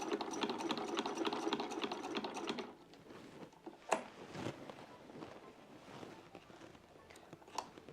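A sewing machine stitches the pinned seams of an Edwardian dressing gown, running in a steady, loud, close whir for under three seconds before stopping. Faint clicks and handling noises follow in a quiet room.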